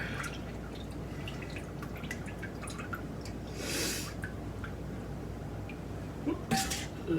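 Liquid drips off ingredients while someone cooks in a kitchen. Faint, scattered drips sit under a quiet background, with a brief soft hiss midway and a couple of louder splashy ticks near the end.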